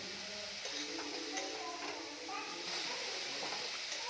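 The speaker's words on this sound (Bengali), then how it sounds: "এটা এখন প্রথমে ফুল ফ্লেমে গাজরটাকে পাকাতে হবে" Grated carrots cooking in ghee in a pan over a full flame, a steady close sizzle with stirring scrapes throughout, for gajar halwa.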